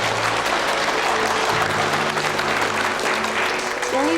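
Sustained applause fills a courtroom in a legal drama, a dense, even clatter of many clapping hands under a low musical drone, continuous from start to finish.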